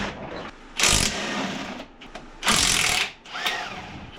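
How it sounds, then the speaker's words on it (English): A ratchet working on the engine mount bolts of a TDI, heard as two close bursts of rapid clicking separated by quieter mechanical handling, with a fainter third stretch near the end. "it is time to get the engine mount bolts out"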